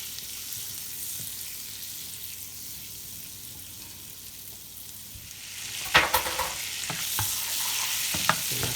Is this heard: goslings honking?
no